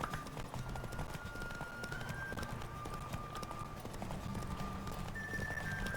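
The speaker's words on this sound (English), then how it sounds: "Don't spare the horse!" Horse galloping in the video game The Witcher 3: a rapid, steady clip-clop of hooves runs the whole time at even loudness, with a thin whistling tone above it and no talking.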